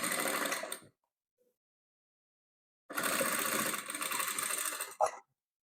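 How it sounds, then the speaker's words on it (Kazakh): A sewing machine stitches blue patchwork fabric in two loud, steady mechanical bursts, a short one at the start and a longer one later, with a quiet pause between them and no talk. "төртінші қабырғасын көк түсімізді тігіп аламыз."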